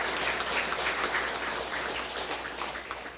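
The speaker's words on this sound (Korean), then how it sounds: "여러분 박수 한번 하늘 앞에 올려주시기 바랍니다." Sustained audience applause at a lecture or sermon, a dense steady wash of many hands clapping that fills the room at full volume without a break, with no talk over it.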